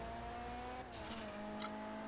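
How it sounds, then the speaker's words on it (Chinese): A car in the video game Grand Theft Auto V accelerating hard, the engine note holding steady then shifting as it surges, with brief squeals, loud and close with no talk. "不小心油门踩太大力了嘛？"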